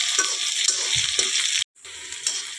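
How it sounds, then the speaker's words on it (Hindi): Fenugreek seeds temper in a small amount of hot oil with green chili and garlic, crackling and sizzling steadily up close with stirring, broken by one brief silent gap. "और थोड़ा सा मेथी फोरन दे रही हूँ, हरा मिर्चा, लहसुन डाल दें, प्याज"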